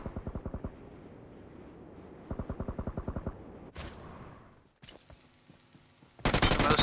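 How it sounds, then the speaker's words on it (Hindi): Gunfire in PUBG on mobile, heard as rapid bursts of automatic shots in short rhythmic volleys, followed by a sharp single crack and then a louder, denser stretch of firing near the end. "अब बाहर की तरफ से फायर आ रहा था"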